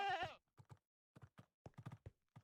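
Goat bleating in a Minecraft modpack game, a goat roaming on mushroom fields: one loud wavering bleat, followed by several short soft clicks or footsteps, with no talk.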